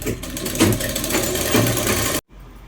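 A sewing machine runs steadily stitching a churidar pajama, a close continuous motor hum and needle chatter for about two seconds before stopping abruptly into quiet.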